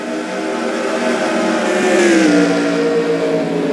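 Race car engines at Darlington during a NASCAR race, a steady loud drone of several cars circling under caution at slow speed, with a faint pitch sweep as one passes.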